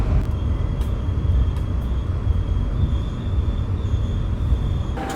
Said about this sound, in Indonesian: kereta api Mutiara Timur fakultatif telah tiba di stasiun Pasuruan